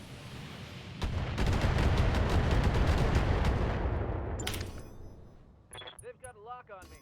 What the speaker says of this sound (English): And lob some more missiles at this Manticore.